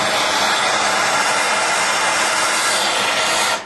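A heat gun blows steadily and loudly, close by, as it heats the timing sprocket on a turbocharged Mazda Miata engine; a continuous hot-air roar holds for the whole stretch, cutting off right at the end, with no talk.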